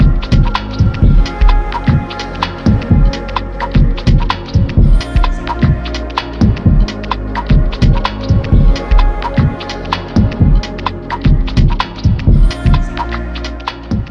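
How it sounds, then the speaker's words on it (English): Chopped vocal fragments loop over a heavy, throbbing beat with deep bass pulses, the voices sounding washed out and distant. "create new vocal chops that sound ambient and distant in our music"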